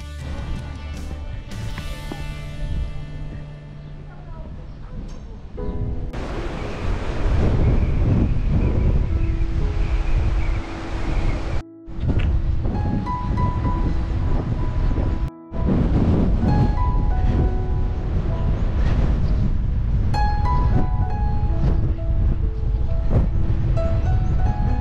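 Strong wind buffets a GoPro 9 microphone outdoors in bad weather, a loud continuous low roar with gusty swells and two brief dropouts, with no voice heard.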